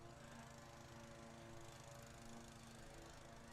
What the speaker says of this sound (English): Nothing better than doing softball and somebody mowing the grass right behind us.